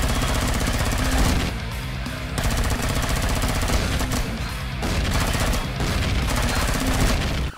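Sentry guns in Empyrion Galactic Survival blast continuously in loud, rapid automatic bursts with brief gaps, a dense mechanical hammering of gunfire close at hand.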